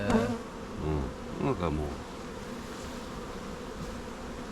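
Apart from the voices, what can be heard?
honeybees buzzing on the comb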